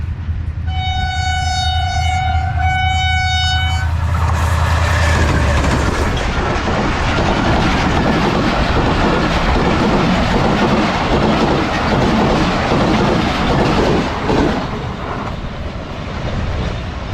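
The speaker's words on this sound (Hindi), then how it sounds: "हमारे व्लॉग का डेफिनेट लास्ट एक्शन 12 डाउन हज़ारा एक्सप्रेस" A Hazara Express train passes Feroza railway station, opening with a loud, sustained two-tone horn blast. A heavy, continuous roar of rolling wagons and clattering wheels follows and stays loud to the end, with no talking.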